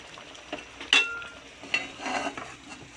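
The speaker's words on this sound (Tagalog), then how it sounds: "Ay, kulo ng kulo. Sige pa, kulo." Mung bean soup bubbling at a steady boil in a cooking pot, a close crackling simmer punctuated by a few sharp metallic clinks of a utensil against the pot.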